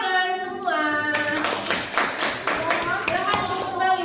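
Children in a classroom clap together after a group presentation, a dense burst of applause that starts about a second in and keeps going, with young voices calling and talking over it throughout.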